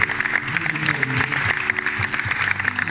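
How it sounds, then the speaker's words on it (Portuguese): Applause from an audience, dense clapping throughout with a voice speaking over it. "eu peço um grande aplauso"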